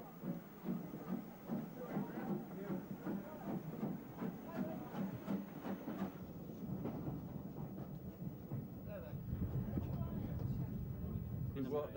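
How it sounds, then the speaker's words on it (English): A steam train pulls away from Bodiam station as church bells ring, a soft hissing, rumbling chuff heard at a distance beneath a speaking voice. "as the bells of the Church of St. Mildred's ring out, the first train pulls away"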